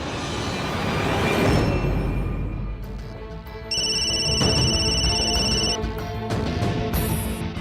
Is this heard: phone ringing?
yes